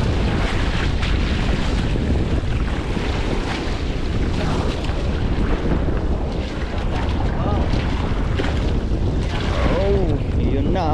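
Large sea waves and strong wind batter a small fishing boat out on open water, a loud, steady roar of surf and gusting wind noise across the whole stretch, with no pause.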